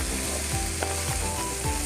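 Raw banana pieces and mixed vegetables sizzle steadily in hot oil in a pan, with a few scraping stirs from a spatula breaking through the continuous frying hiss.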